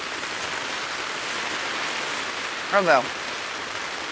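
Steady rain falls outdoors as a continuous even hiss, and a person says a brief exclamation near the end.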